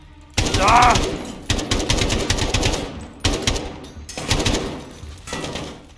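Heavy automatic gunfire in Call of Duty: Modern Warfare (2019), loud close bursts of rapid shots broken by brief pauses, with a voice faintly mixed in.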